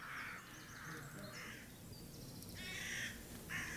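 Jackdaws caw in short, sharp bursts, several calls spaced apart, with a faint outdoor background and no talking.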